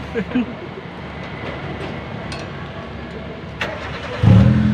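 Mitsubishi Lancer with a previously noisy, misfiring starter being cranked, a steady mechanical rumble building to a louder catch near the end as the engine fires up, close by, with brief voices mixed in.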